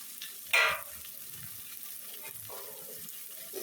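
Crushed garlic is dropped into a frying pan over a cooked-down mixture, setting off a sharp, brief burst of sizzling that settles into a quiet fry with a couple of stirring sounds.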